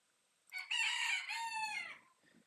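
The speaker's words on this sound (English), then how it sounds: "Don't mind the chicken sounds" Young chickens kept indoors, with a clear rooster-style crow rising and holding for over a second, followed by a few soft clucks at close range; no voices.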